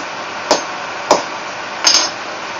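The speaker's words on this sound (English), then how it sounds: "Now we get a couple good whacks" A hammer strikes a button setter punch into a leather holster: three sharp, close whacks, the last one a quick double hit, over a steady background hiss.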